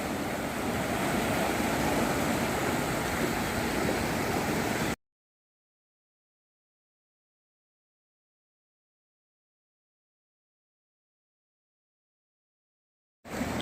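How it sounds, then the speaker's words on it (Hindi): The Ganges river flowing at Haridwar makes a steady, dense rush of water noise for about five seconds, then cuts to silence. "और गंगा नदी की धारा में"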